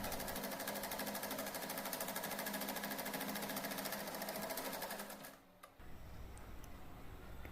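A sewing machine runs steadily, stitching around the neckline of a blouse, its rapid, even needle chatter filling the first five seconds before a brief pause and a quieter restart.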